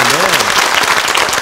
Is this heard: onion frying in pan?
no